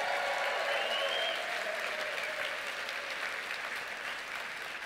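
An audience applauds after a health product talk, with steady, dense clapping throughout that fades slightly toward the end.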